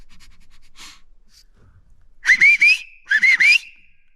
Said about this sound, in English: I heard him whistling, telling me to wait up.